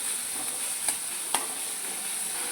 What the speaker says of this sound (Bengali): নুন দিয়ে আমি এটাকে ভালো করে একটু লাল লাল করে ভেজে নেব